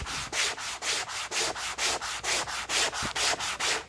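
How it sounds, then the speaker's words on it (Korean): Hand sanding of a wooden rocking chair seat in the Maloof style: about fourteen steady, evenly spaced rasping strokes, close and fairly loud, with no voices. "이걸 언제 손으로 다 샌딩 하나 싶지만 벌써 엄청나죠?"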